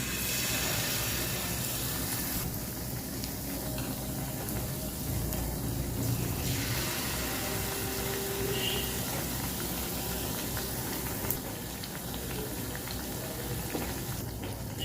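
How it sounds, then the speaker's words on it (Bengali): Malpua batter fritters frying in about two cups of hot oil in a pan, giving a steady, dense bubbling sizzle that runs close and continuous throughout with no talking. "তেল গরম হয়ে গেছে, এবার এক এক করে আমি মালপোয়াগুলো ভেজে ফেলব"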